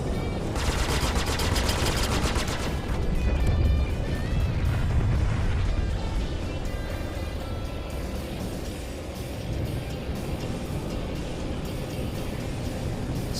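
Ship guns firing on an Aegis Sabre fighter in the space game Star Citizen: dense, sustained rapid bursts over a constant engine roar, loud and continuous, with heavier rattling early on.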